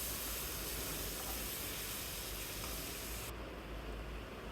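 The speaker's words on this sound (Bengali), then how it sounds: "হালকা করে ভেজে নিব।" Boal fish pieces fry lightly in a pan, giving a soft, even hiss that holds steady throughout and dulls slightly toward the end.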